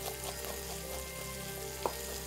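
Steady sizzling of pork ribs frying in a pan, constant and close, with a small clink near the end and no talking.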